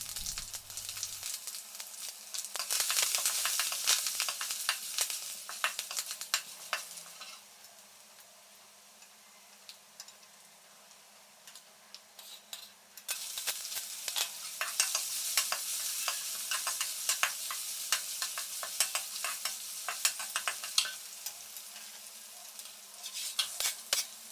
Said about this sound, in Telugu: మినపప్పు శనగపప్పు ఆవాలు ఎండుమిర్చి కరివేపాకు అల్లం పచ్చిమిర్చి ఉల్లిపాయ అన్నీ వేసుకొని వేయించుకోవాలి